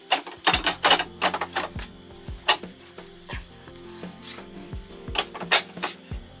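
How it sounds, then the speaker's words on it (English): Headlight buckets are refitted onto a car during a swap from sealed-beam headlights to LED projector units: a close, irregular run of sharp clicks, taps and knocks of parts and hardware, with faint tonal ringing beneath. "Reattach the headlight buckets."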